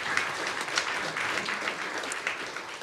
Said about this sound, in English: Round of applause for these lovely kiddos we have today